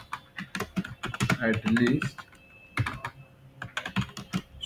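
Computer keyboard typing React form validation code, close clicky keystrokes in quick bursts with short pauses, some clattering runs, and a voice speaking over part of it.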